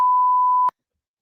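A single clean censor beep sounds as one steady, loud electronic tone lasting under a second, cut off sharply with a faint click into silence.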